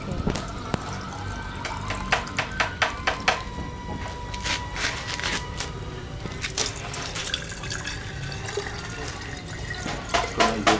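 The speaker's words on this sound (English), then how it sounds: "We're also putting water into a couple of pots." Water poured into pottery water storage pots, a steady liquid splashing and trickling with repeated sharp drips and clinks, close and moderately loud throughout.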